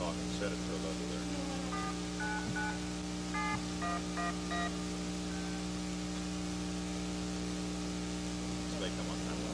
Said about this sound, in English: I'll make a call at the time of day service